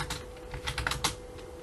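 Rapid computer keyboard typing, a burst of close, crisp clicks with a few louder keystrokes, over a low steady hum.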